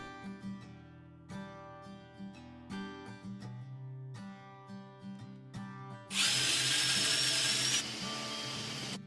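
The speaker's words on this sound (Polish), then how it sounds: "Czas na wiercenie." A cordless drill drilling a hole in wood whirs in short repeated bursts, then runs continuously for a couple of seconds with a harsher, louder grinding tone.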